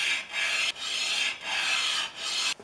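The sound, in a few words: lapping Stanley A78 plane depth stop on lapping station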